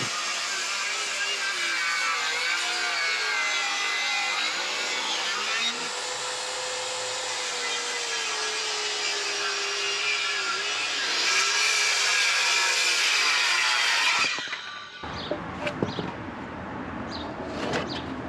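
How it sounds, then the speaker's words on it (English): A circular saw rough cuts wood pieces for a bass guitar body, a loud continuous whining buzz whose pitch dips under load midway, then cuts off into a clattering pause near the end. "After rough cutting the pieces out with the circular saw"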